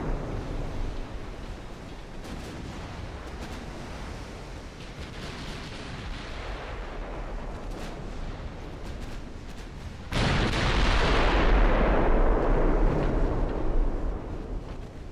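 Warship main guns firing during a naval battle in Ultimate Admiral: Dreadnoughts, deep booming blasts over a continuous roar of sea and battle noise, swelling into a louder heavy rumble partway through.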